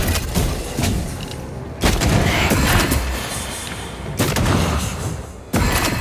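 Repeated heavy gunfire in the dark fantasy action game Banishers: Ghosts of New Eden, with several booming shots and thuds separated by rumbling, reverberant gaps, loud and close without speech.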